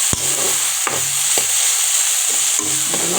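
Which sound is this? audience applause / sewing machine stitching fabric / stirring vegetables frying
stirring vegetables frying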